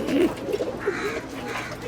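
Pigeons coo on a home rooftop where they are kept, low throaty burbling calls repeating close by, with a faint voice in the background.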